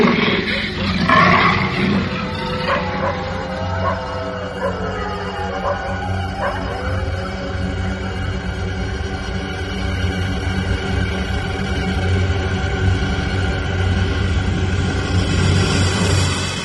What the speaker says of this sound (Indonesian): tiba-tiba mengaum mengerikan, laksana seekor singa yang kehilangan anaknya